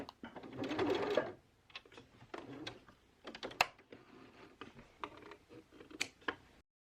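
A sewing machine stitches a turned-and-stitched seam finish, running in a steady burst at first and then in shorter stop-start runs with small ticks of handling, close and clear with no talk.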